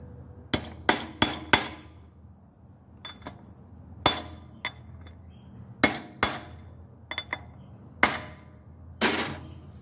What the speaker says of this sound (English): hammer these down